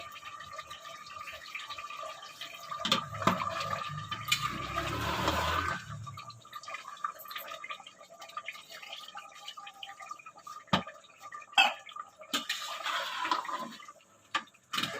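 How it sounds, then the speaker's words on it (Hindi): Water is poured into a cooking pot of beef korma, a rushing splash for a few seconds, followed by quieter kitchen clinks and drips. "अब मैं इसमें थोड़ा सा पानी ऐड करूँगी।"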